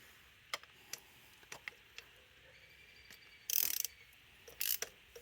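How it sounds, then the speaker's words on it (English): A long-handled ratchet tightens bolts on a Dodge Charger 3.6 V6, with sparse close clicks early, then two loud rapid bursts of ratcheting. "I'm tightening this down. Now, I've got kind of this long-handled ratchet."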